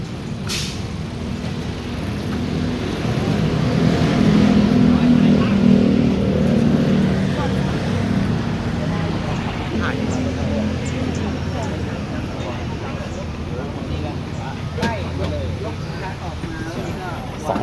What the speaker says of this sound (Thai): โหดูครับรถติดแน่นเลยนะครับผม